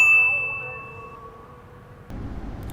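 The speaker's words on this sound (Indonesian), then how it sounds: "nyalakan lonceng notifikasinya" A single bright notification bell ding rings out at the start of a TV segment and fades over about a second, followed by low room noise.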